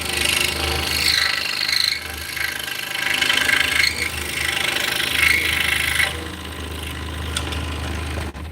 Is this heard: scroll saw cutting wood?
yes